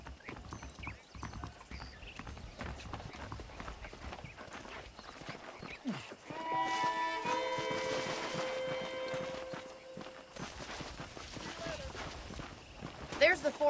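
Horse hooves clip-clopping at a steady walking rhythm in the video game Red Dead Redemption, close and continuous under a man's speech, with a tonal musical swell in the middle.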